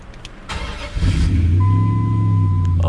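A Dodge Ram pickup with a failing fuel pump cranks briefly, then its engine catches and settles into a loud, steady idle close by.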